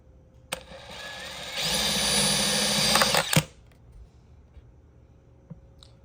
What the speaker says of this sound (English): we're just making some pilot holes for our screws